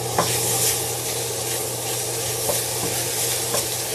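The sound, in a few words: bacon and vegetables frying in a pan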